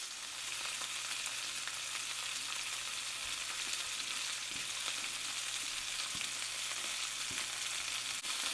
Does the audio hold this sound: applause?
no